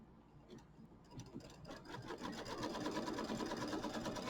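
Embroidery sewing machine stitching a quilt tack-down, a steady quick mechanical needle rhythm that starts softly and grows denser and louder, close and alone with no talk.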